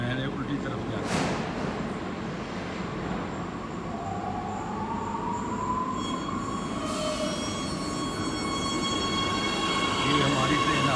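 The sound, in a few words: metro train arriving at a station in Oslo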